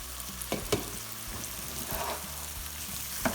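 Onions softening in a pan for aloo gobi, a quiet steady sizzle with occasional stirring clicks and pops, close and without talk.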